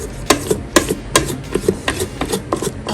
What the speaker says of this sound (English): I'm just gonna scrape this down, get the last of my butter